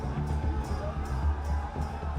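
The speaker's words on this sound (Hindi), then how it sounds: "सैलाब उमड़ पड़ा लोगों का और जोरदार स्वागत हुआ प्रधानमंत्री नरेंद्र मोदी का" Crowd cheering at a prime ministerial road show on the streets of Patna, a dense, loud, continuous roar of voices with scattered whoops and shouts.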